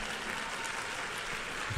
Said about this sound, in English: If you have decided to clap, clap enthusiastically.